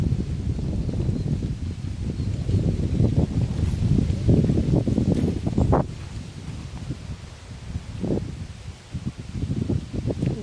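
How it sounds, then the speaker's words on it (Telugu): A breeze gusts through trees, a soft rustling whoosh that rises and falls unevenly, with a few faint knocks and bumps mixed in. "గాలి మాత్రం అసలు సూపర్గా వస్తుంది"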